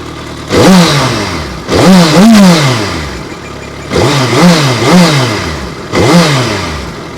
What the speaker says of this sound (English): let's listen to the exhaust note of this 4-cylinder Hyper